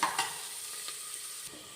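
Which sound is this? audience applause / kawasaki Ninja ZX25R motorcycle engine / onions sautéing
onions sautéing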